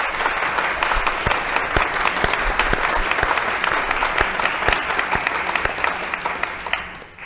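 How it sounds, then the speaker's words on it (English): A round of applause fills a cathedral during Mass, many hands clapping steadily with a few sharper distinct claps standing out, then fading away at the end. "Let's give them also a round of applause."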